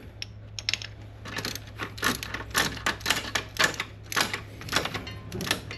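A ratchet or wrench tightens a push rod adjustment nut on a 1990 Chevrolet K1500 engine, producing a quick series of sharp metallic clicks in uneven bursts against a quiet background hum.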